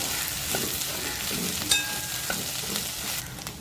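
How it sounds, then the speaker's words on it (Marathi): Okra sautéing in a pan gives a steady close sizzle and frying hiss, with light stirring scrapes and a brief utensil clink partway through. "भेंडी अशी दोन मिनटं छान परतून घ्यायची"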